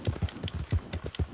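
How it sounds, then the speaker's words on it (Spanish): Horse hooves galloping in Red Dead Redemption 2, a steady run of loud, close thumping hoofbeats at an even rhythm, with no voices. "nuestro caballo corre muy lento."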